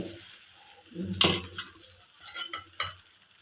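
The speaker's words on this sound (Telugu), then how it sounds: "కొంచెం ఆయిల్ వేసుకొని ఇవి బాగా ఒక సైడ్ బాగా ఫ్రై అయ్యేదాకా" Rava dosa fries in oil on a pan with a soft sizzle, broken by metallic scraping and clinking of a spatula against the pan, close by and with no talking.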